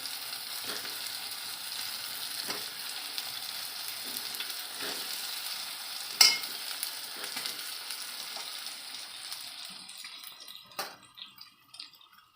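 Stuffed brinjals (eggplants) frying in sautéed masala, a steady close sizzle with occasional stirring clatters and sharper pops toward the end, no voices.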